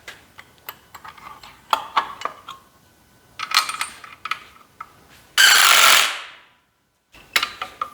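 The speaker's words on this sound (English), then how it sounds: "We tighten this into 70 feet pounds just like we did the mains" Engine bolts on a 327 small-block Chevy being tightened to 70 foot-pounds during a 1940 Chevy Coupe build: scattered sharp metallic ratchet clicks nearby, with a short, loud rushing burst partway through.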